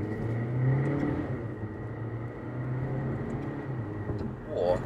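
A 2019 VW Golf R-Line 1.5 TSI in manual second gear pulls hard at full throttle from inside the cabin, its engine note rising and falling through quick gear changes, steady and moderately loud.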